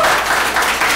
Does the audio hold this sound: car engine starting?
no